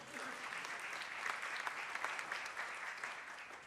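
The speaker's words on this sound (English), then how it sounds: "Yes, an applause is in order." An audience claps together, a faint, steady wash of applause heard from a distance that holds evenly throughout without cheering.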